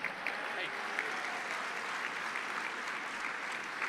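Quiet, steady applause from an audience at an evening charity benefit for NF, a uniform wash of distant clapping that holds evenly throughout.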